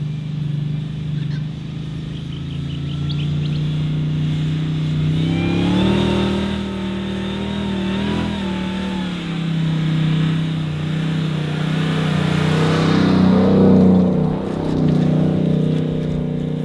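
A Ram TRX pickup driving through chopped-up sand tracks on Fraser Island, its engine revving and surging in waves over a low steady drone, loud and close, rising toward the end.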